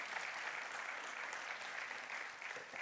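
A church audience claps steadily for a few seconds, a dense, even patter of many hands, fairly faint and heard from a distance with no talk over it.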